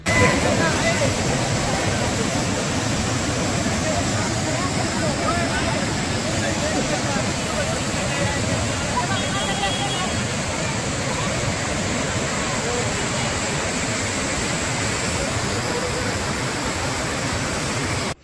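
Water rushing down from a waterfall on a temple compound at Tungareshwar, a steady broadband roar that stays loud and unbroken throughout, with no talk over it.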